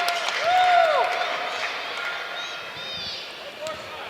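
Crowd noise swells at a college basketball game between North Dakota and SD Mines as a player steps to the free throw line, a broad roar with whistles and cheers that fades slowly over four seconds.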